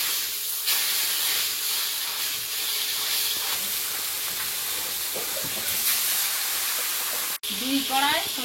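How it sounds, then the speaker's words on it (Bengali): Snakehead fish frying in hot oil in two woks at a home kitchen, giving a steady loud broadband sizzle and hiss throughout, with a brief voice near the end. "2 কড়াই মাছ ভাজবো।"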